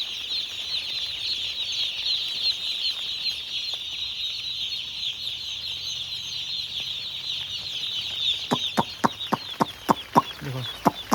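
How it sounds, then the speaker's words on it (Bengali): Broiler chicks cluck steadily in a close, high chatter, joined near the end by a burst of sharp wing flaps from the fowl. "এটা ব্রয়লার চিক্স, মুরগি, চিকেন।"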